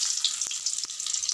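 Dangbodi sizzling as it fries in a pan, a steady close hiss with two brief soft knocks, no voices.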